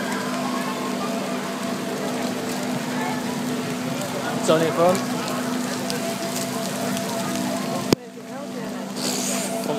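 Heavy rain pours steadily around people out at a Flamingo Land visit, a dense continuous hiss close by with talk over it throughout and a sudden drop in level near the end.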